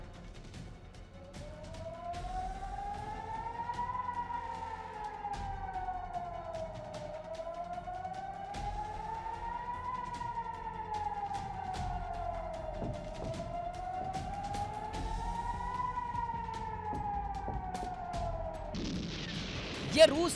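A wailing emergency siren in a war zone rises and falls in slow, steady cycles, fairly distant, with sharp cracks and a burst of noise at the end.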